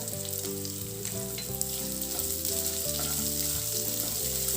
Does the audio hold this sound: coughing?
no